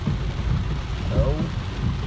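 Rain and a thunderstorm in the Brazilian sertão: steady broadband wash of rainfall with low rumbling underneath, continuous and moderately loud, with a brief voice-like tone partway through.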